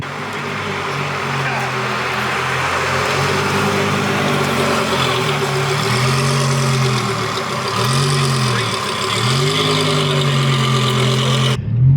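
A BMW E36 with a turbocharged M50 engine idles and revs in smooth rising and falling swells, loud and close, with a steady low drone underneath.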